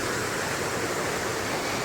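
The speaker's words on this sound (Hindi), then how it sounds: "और ये रहा झरना।" Mountain waterfall on the Kedarnath trek, a steady broadband roar of falling water that stays constant and close throughout, with no voices.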